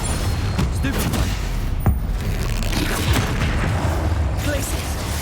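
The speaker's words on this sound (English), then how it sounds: "Stupefy," Dense, continuous magical combat from Hogwarts Legacy as a Stupefy spell is cast: loud overlapping bursts and booms blending into a steady roar of rapid-fire impacts.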